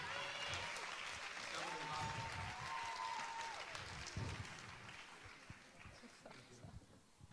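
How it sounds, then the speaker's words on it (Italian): Studio audience applause on an Italian TV talent show, broad steady clapping with scattered voices and cheers over it, slowly thinning toward the end. "Un applauso."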